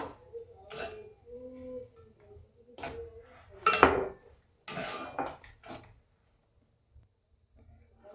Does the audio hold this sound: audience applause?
no